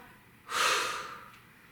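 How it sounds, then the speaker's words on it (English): A single sharp, close exhale during a yoga sculpt combination exercise, a breathy rush lasting under a second that fades out over a quiet background. "Make sure you're breathing."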